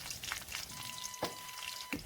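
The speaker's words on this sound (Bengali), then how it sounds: "রান্নার তেল, পেঁয়াজ রসুন কুচি আর কয়েকটা কাঁচামরিচ দিয়ে ভেজে নিচ্ছি।" Chopped onion, garlic and green chillies frying in cooking oil, a bright crackling sizzle with scattered pops and a few sharp stirring scrapes.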